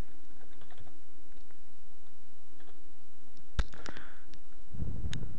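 Scattered keystrokes and clicks on a computer keyboard while entering text into a web page form, faint at first and then a sharper cluster of taps, over a steady room hum.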